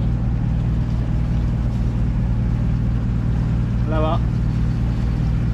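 A sailboat under motor leaves the bay of la Selva in Spain, its engine giving a steady, loud, low drone close by, while one voice speaks briefly partway through.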